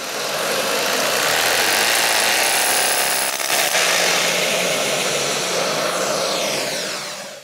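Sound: power drill drilling through brick wall

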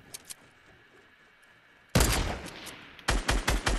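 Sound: gunfire in Fortnite video game

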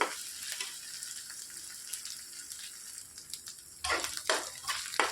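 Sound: onions and ginger-garlic paste frying in oil

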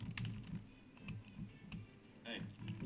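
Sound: clicking the left mouse button while playing Magicka

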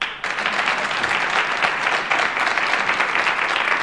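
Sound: audience applause

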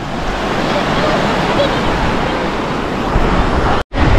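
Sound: sea waves breaking on a beach

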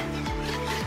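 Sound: stirring lettuce soup in a pot

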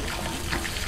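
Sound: water pumped up from a deep well by a wheel pump

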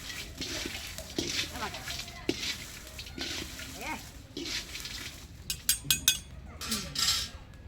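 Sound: chillies being roasted in a little oil

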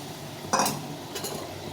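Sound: fried okra added to simmering gravy and stirred

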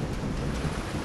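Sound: thunder in the video game Call of the Sea

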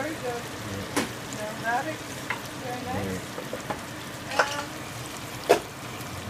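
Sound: red wine added to sizzling rouladen sauce with celery

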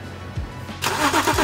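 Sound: car engine starting and idling to dry the engine bay

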